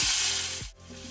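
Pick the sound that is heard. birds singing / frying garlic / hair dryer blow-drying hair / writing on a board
frying garlic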